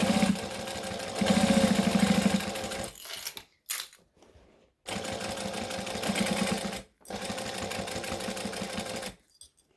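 A sewing machine top stitches fabric around a band in several bursts of steady whirring, with short pauses between runs, close and fairly loud.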